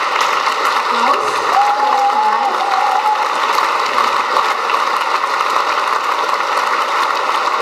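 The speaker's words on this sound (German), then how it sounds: "Applaus." A seated audience at a platinum award presentation applauds steadily as an illustrator is called onto the stage, a sustained even wash of clapping with a faint tonal hum running underneath.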